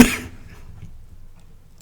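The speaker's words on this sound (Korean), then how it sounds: "기침이 나와서" A single sharp cough bursts out from someone speaking alone on camera, brief and close, followed by near silence and a faint sound at the very end.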